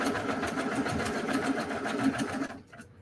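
A sewing machine runs steadily and close at hand, stitching the straight seam of a quilt block with half-square triangles; the even mechanical whir of its needle goes on alone, then stops abruptly near the end.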